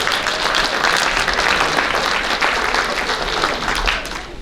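Sustained applause from a banquet crowd at a school athletic banquet honoring the JV girls track team, dense clapping from many people that holds steady and then tapers off at the close.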